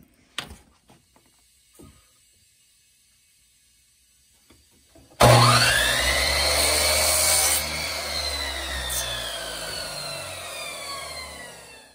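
Wood cut for a strainer back on a power saw: after a few faint knocks and near silence, the blade starts abruptly and runs loud and steady, whining as it bites into the board until the clip ends.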